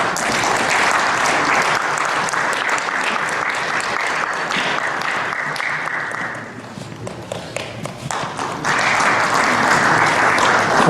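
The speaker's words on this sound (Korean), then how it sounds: "두 분에게 이사파송장을 수여할 때 여러분들이 두 분을 위해서 기도하시겠다는 의미로 박수로 격려해 주십시오" Congregation applauds steadily at a church ceremony where two appointees receive their board commissioning certificates; dense, loud clapping fills the room, dips briefly midway, then swells back to full strength.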